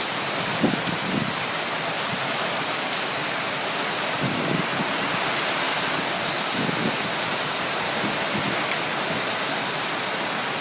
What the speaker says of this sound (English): This rain is pretty strong. Lightning and thunder everywhere.